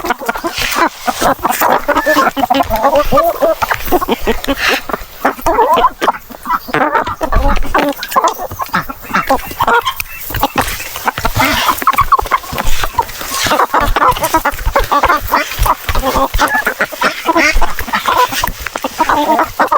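Native chickens cluck and squabble busily while pecking at squash, a dense, continuous flock chorus close by with scattered sharper calls and no speech.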